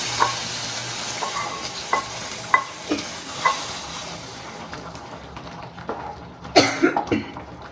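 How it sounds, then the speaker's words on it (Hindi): Hot tempering poured into cooked dal for South Indian sambar, giving a brief sharp sizzle and crackle near the end over steady background kitchen noise, with a few clattering stirs and knocks earlier. "अब ये तड़का हम"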